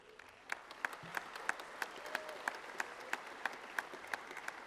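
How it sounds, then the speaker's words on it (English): Sparse, slow applause at an ALP state party conference, a few distinct claps in a steady rhythm over a quiet hall background, fairly faint and distant. "you're going to clap after each of them"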